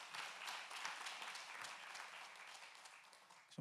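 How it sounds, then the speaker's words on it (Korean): Congregation at an afternoon church service applauding, a fairly quiet, sustained patter of many hands that tapers slightly toward the end. "우리 오후 찬양 통해서 박수 한번 하도록 하겠습니다."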